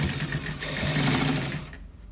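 A sewing machine runs in a steady fast whir while stitching a shawl collar, a continuous close mechanical chatter that stops abruptly near the end.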